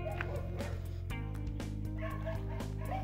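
A dog gives a few short yips and barks over loud, steady background music with a strong repeating beat, the barking partly buried in the mix.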